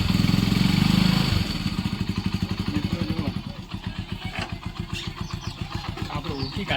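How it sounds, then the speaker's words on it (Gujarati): A motorcycle engine cranking and catching, then running on with no spark plug fitted, a loud roar settling into a fast, uneven chugging pulse close by, with a voice heard at times. "બાઇક ચાલુ થઈ ગઈ હોય"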